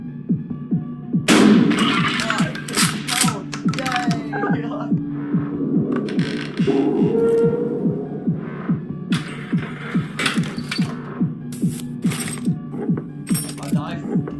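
Shotgun blasts in a shooting video game go off as loud, booming shots scattered through a busy mix of game effects and a steady throbbing hum, with a player talking over the action.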